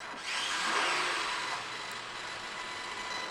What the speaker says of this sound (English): it has an internal engine noise coming from the engine